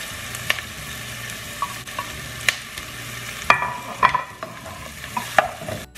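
Garlic frying in a pan for a beef stew: a soft, continuous sizzle broken by a series of sharp clinks and scrapes as it is stirred, close and clear with no talking.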